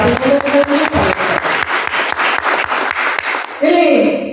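An audience claps for a swamiji at a monthly Shivanubhava religious gathering, with rhythmic, evenly spaced handclaps carrying on for several seconds before a voice takes over at the end.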